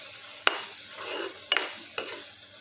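A spoon scrapes through milk and sugar simmering in a pan for milk cake, three sharp scraping strokes rising over a soft, steady bubbling hiss, close and fairly quiet.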